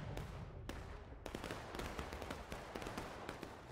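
Booming cannon blasts and sharp cracks of battle fire in War of Rights, a Civil War game, several shots scattered over a constant rumbling din, with one heavier boom standing out near the start.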